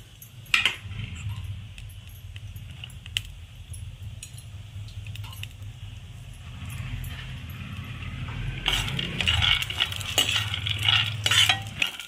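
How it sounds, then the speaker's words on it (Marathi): Peanuts roast in a spoonful of oil in a pan for curry-leaf chutney, giving a steady low frying rumble with occasional scraping stirs and metallic clinks, building louder near the end; no voices. "आता हे शेंगदाणे पण मी भाजून घेत आहे चांगले खरपूस असे"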